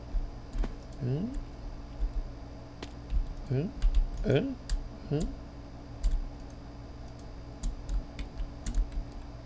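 Computer keyboard keys clicked while playing Minecraft 1.4.7 with a jet pack mod, with scattered sharp taps and short key clusters close by, mixed with brief voiced sounds and a steady low hum of background noise.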